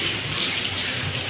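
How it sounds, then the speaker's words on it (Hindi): Rainwater leaks through a roof during a heavy storm, pouring into a room as a steady splashing gush of water, close and continuous with no talk. "ये छत से पानी आ रहा है सारा।"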